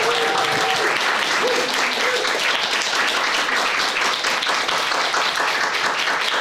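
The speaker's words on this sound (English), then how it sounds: "Please give a huge round of applause for Anil Qasemi as he comes to the stage." Sustained audience applause and clapping fill a hall as a speaker walks up to the stage at an evening talk, dense and steady throughout at close range, with no voices rising above it.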